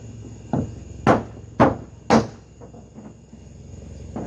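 Wood blocks knocked against the metal of a caved-in car roof while it is worked back into shape: four sharp, hollow thumps about half a second apart, the middle three loudest, then a quieter knock at the end.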